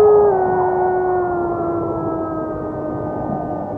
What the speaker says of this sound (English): that earthborn thrill most older clients get from hearing a traditional wolf howl